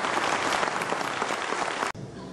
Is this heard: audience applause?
yes